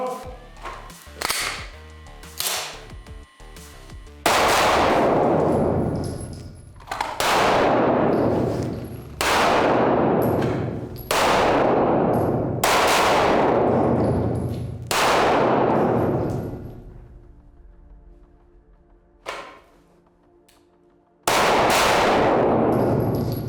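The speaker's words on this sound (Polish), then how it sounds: "Dwa szybkie strzały i mhm. potem znowu dwa szybkie strzały." Sharp pistol shots ring out in rapid pairs, each loud crack followed by a short echo, repeating several times with brief pauses between.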